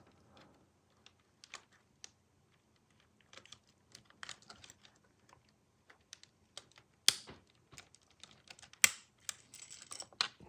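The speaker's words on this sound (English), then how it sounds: "Just like that, the keycap pops right off." Keycaps pried off a G750 folding keyboard, heard as sparse light clicks and small plastic snaps, with a few sharper pops near the end, close and quiet.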